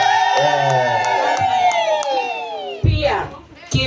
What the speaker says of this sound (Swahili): Makofi jamani kwa MC.